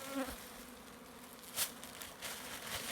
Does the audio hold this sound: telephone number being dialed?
no